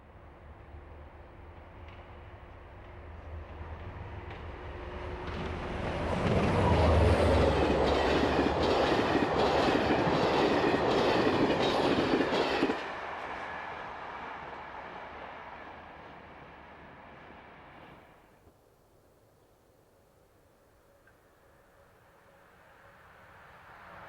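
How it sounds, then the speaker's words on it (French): An electric multiple unit running as a single unit passes at 159 km/h over long welded rails on concrete sleepers, swelling to a loud roaring rush with rhythmic clicking, then fading away into distant quiet. "en unité simple, circulant à 159 km/h sur de longs rails soudés posés sur traverse béton"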